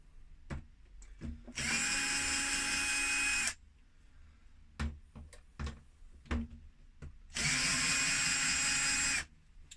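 A power screwdriver runs in two sustained whirring bursts of about two seconds each while removing the base screws of a Sony SLC5UB video recorder, with scattered handling clicks and knocks between bursts.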